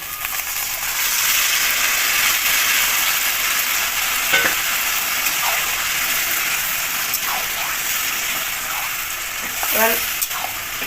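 Marinated mutton sautéing with browned fried onions in a pan for mutton kosha: a steady, loud sizzle and hiss throughout, with occasional scraping stir strokes near the end.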